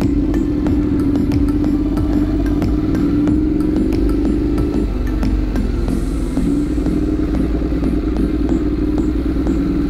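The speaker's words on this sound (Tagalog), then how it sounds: "Hatid na natin tong motor" A motorcycle engine runs steadily and loud throughout, with a slight pitch shift midway and some rattling clatter over the drone.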